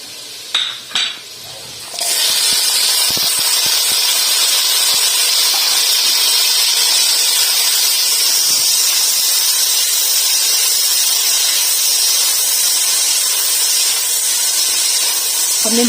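Peas tumble into onions in a pot for white matar pulao, a couple of clanks giving way to a loud, steady frying sizzle and steamy hiss that carries on close up to the end.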